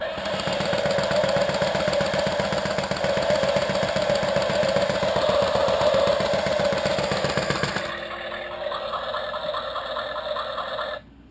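A small toy engine from a Road Rippers toy car buzzes with a rapid, rattling pulse, then drops to a thinner, higher whir before stopping.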